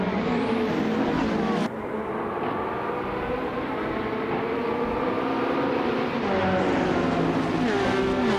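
A 2016 Ferrari 488 Challenge race car in a racing video game at the Hockenheimring Retro GP track, its engine roaring steadily and loudly throughout with layered revving tones from several cars.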